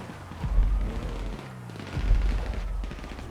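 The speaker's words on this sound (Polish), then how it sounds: "Aha, już słyszę strzały." Two deep booming gunshot bursts in GTA Online with rumbling echoes, about a second and a half apart, heavy and fairly close over a low background.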